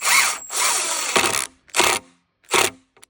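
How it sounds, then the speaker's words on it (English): Power drill driving fasteners to secure a board onto a sunken log for milling lumber, several loud close bursts of whirring, one long and three shorter, separated by silence. "So when you're fastening the board to the log,"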